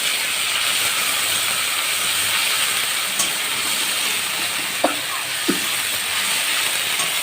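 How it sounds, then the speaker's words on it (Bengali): A raw paste of ground ginger and cumin fries in hot oil in a pan, giving a steady, dense sizzling hiss throughout with a few faint clicks of stirring near the end, close and with no talk. "কাঁচা মশলাটা ভালো করে কষিয়ে নেব।"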